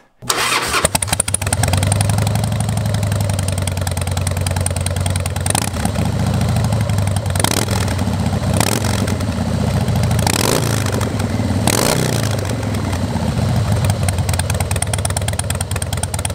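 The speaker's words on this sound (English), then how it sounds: "This is the most beautiful sound the engine can make" A Harley-Davidson motorcycle engine starts and settles into a loud, steady idle with a deep rumbling throb, with a few brief revs along the way.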